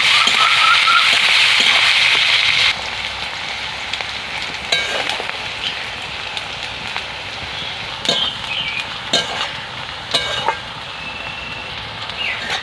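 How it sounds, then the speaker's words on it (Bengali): Onion fries in oil in a pan, a loud steady sizzle that drops to a quieter crackle partway through, with a few sharp clicks and scrapes of stirring. "লাল লাল করে পেঁয়াজটাকে ভেজে নেব।"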